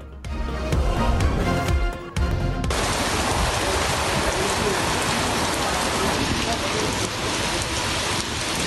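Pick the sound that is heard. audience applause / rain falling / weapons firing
rain falling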